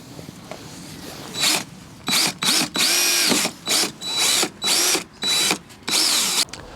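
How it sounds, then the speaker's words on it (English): A power drill pre-drills holes for self-tapping screws while an Audi S5 bodykit with a Carbon Factory rear ducktail spoiler is fitted. Eight or so loud, close bursts of whirring drilling, each lasting about half a second, with short pauses between them. "just pre-drill them all the way along, put some holes in, put the self-tappers in"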